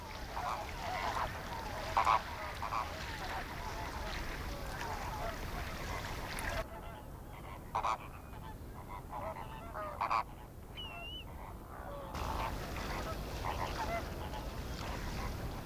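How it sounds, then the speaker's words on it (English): Chilean and Andean flamingos call from saltpeter feeding pools on a high plateau, a steady wash of goose-like honking with a few sharper, louder calls standing out against constant background noise. "Chilean and Andean flamingos enjoy these saltpeter pools on the high plateau for feeding"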